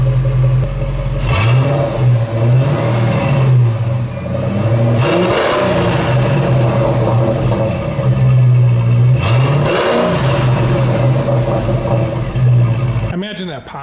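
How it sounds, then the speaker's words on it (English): A 2002 Jeep Cherokee 4.7L engine, with a Walker Sound FX muffler and a leaking exhaust manifold, revs repeatedly in loud swelling bursts over a steady idle, the rises recurring every few seconds up close. "Let's rev it up, see if we can blow some more carbon out of it."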